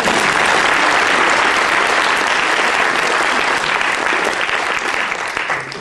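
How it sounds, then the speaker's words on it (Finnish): A hall audience at a 50th birthday celebration gives sustained, loud applause that fills the room evenly and tapers only slightly toward the end, with no voices over it. "Raikuvien aplodien saattelemana."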